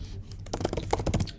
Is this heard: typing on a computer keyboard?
yes